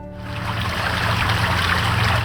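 Water flows steadily down a 38-segment memorial water wall at an outdoor tornado memorial, a continuous close splashing trickle with no talk over it.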